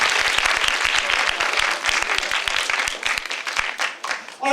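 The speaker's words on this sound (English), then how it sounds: "can I give these 2 gentlemen a round of applause?" Round of applause from an audience at a Singapore science teacher competition, loud distinct claps that thin out and fade toward the end as a voice begins.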